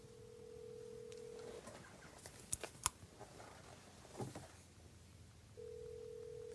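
A telephone call is placed: a steady ringback tone sounds, breaks off for a few clicks and button taps, then resumes, quiet and close.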